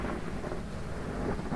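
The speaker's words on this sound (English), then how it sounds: "Oh, it must be the rain." Rain and thunder from the Phasmophobia video game form a dense, steady roar of rainfall with low rumbling underneath, continuous and fairly loud throughout.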